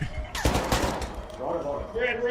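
Gunfire in the video game ARC Raiders: a sharp burst of shots and cracks with echoing tails, mixed with game noise and a voice underneath.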